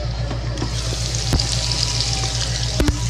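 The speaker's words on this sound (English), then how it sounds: "listen to that sizzle, listen to that sear" Steady sizzling of food frying in a pan, a continuous crackling hiss with a low hum beneath and a couple of sharp clicks.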